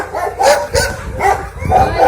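A dog gives several barks and yips in a quick, uneven series at a rescue shelter, loud and close, with people's voices mixed in.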